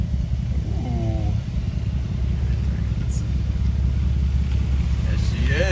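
Steady low engine rumble of a 1971 Plymouth Road Runner driving down the road, loud and continuous with wind noise, and a brief voice cry near the start.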